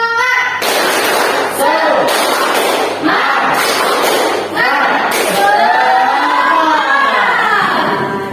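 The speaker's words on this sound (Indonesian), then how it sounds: "Tepuk semangat." A class of students doing a tepuk semangat spirit clap: loud group clapping in rhythmic bursts, mixed with chanting voices.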